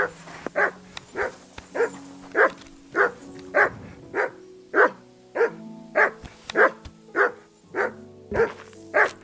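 A dog barks loud and close, in a steady string of about sixteen sharp barks over nine seconds, with faint whimpers between some of them and no talking.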